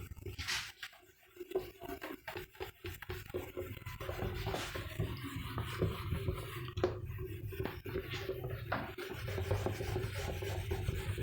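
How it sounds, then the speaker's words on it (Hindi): Chalk or marker writing is rubbed off a classroom board during a maths lesson, a continuous scrubbing and rasping with uneven back-and-forth strokes, fairly close, with no talking. "तो अब हम लोग इस चीज को फिलहाल रब करते हैं।"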